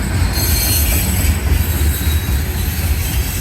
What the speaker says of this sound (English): You can hear the flat spots on the wheels going against the rail.